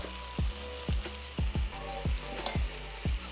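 Burgers sizzle in a hot pan while Colby Jack cheese melts over them, a steady frying hiss broken by a run of sharp, regular pops and spatters roughly every half second, close and clear with no talk.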